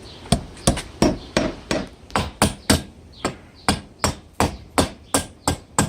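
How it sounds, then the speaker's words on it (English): About fifteen sharp hammer blows ring out at a steady pace, close and loud, as a hammer knocks an outdoor backyard fan mount into its locked position. "The hammer, going to lock that in."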